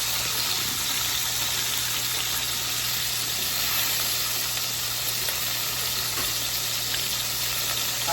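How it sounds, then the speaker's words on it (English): Pieces frying down to crisp in a pan for Thanksgiving baked beans give off a loud, dense, unbroken sizzle that holds steady from start to finish, close up with no voices. "You're gonna let them fry down."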